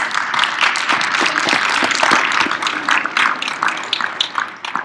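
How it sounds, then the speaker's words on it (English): A conference audience applauds, with many hands clapping in a dense, lively burst that stays strong for several seconds and then begins to thin out and fade toward the end. "give yourself a round of applause"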